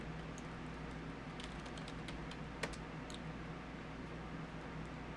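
Computer keyboard being typed on at a desk, faint sparse clicks of individual keys over a steady low hum and background noise.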